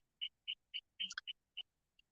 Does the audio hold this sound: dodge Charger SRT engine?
no